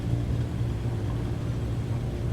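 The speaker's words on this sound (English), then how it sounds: "Here we're going to land and touch down." Airliner touching down on a runway in Microsoft Flight Simulator, a steady loud low engine and rolling rumble with no distinct impact, continuous throughout.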